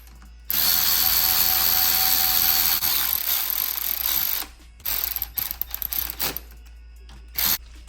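Ratchet wrench tightening the clutch cover bolts on a Suzuki DRZ400, a dense continuous clicking burst for about four seconds, then shorter separate ratcheting spurts with pauses, close and fairly loud, with no talk.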